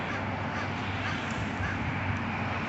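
Gull-like harsh calls, tagged as crow caws, sound out over a steady noisy outdoor background, loud and continuous across the stretch.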